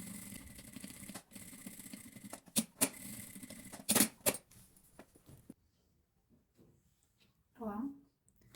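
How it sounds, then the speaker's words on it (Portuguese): Sewing machine topstitching a seam on a hobo bag, short bursts of rapid mechanical stitching with pauses, close and moderately loud, followed by a brief voice at the end. "E vamos na máquina rebater uma costura aqui"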